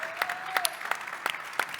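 A brief, sparse round of clapping at a health innovation panel, a few distinct claps spaced out rather than a full crowd roar.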